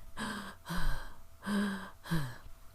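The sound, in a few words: narrator imitating a man gasping for breath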